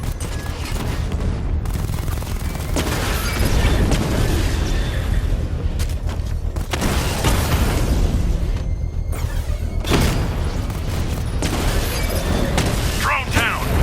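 Repeated booms and crackling blasts as drones are destroyed in the Batman: Arkham Knight video game, dense, loud battle noise that rises and falls throughout, layered with game voices.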